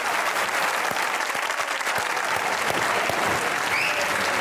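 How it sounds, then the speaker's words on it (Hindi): A large studio audience applauds loudly and steadily, dense clapping filling the whole stretch without a break. "आपकी भरपूर तालियों में एहसान उल हक और फवाद आलम।"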